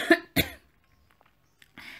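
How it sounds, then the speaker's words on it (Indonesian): A narrator voicing a mother in an Indonesian children's audiobook gives two sharp, close coughs in quick succession, followed by a short pause and a faint breathy rasp. "Ibu Joke-Joke batuk dan berkata,"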